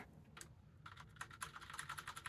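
Keys clack on a Logitech G613 wireless mechanical keyboard with linear switches in a quick, irregular run of close, faint keystrokes, with no voices.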